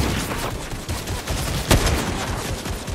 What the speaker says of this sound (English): yeah, they are shooting at us.